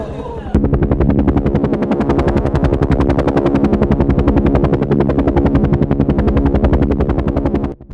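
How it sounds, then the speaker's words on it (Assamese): A cartoon helicopter flies low over a house, its rotor thudding in a rapid, even, loud chop that starts abruptly and runs without a break until it cuts off at the end, with no talking. "জলদি আমাৰ ঘৰৰ ওপৰেদি হেলিকপ্টাৰ গৈছে, হেলিকপ্টাৰ"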